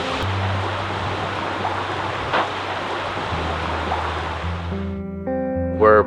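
Steady rushing roar of a waterfall at the Fairy Pools on the Isle of Skye, loud and continuous, with a few faint tonal sounds layered in near the end.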